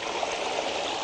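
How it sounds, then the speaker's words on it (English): Water gushes out of an opened reservoir and runs beneath an undershot water wheel, turning its paddles, as a continuous, dense, close rushing hiss that stays steady throughout with no voices. "and it gushes below the wheel, and it turns the paddles"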